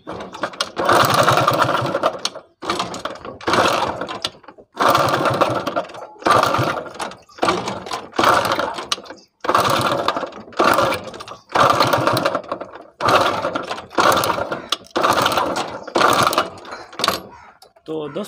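A Honda CD-70 motorcycle engine with connecting rod noise is kicked over again and again in loud bursts of about a second each, separated by brief pauses, and never catches.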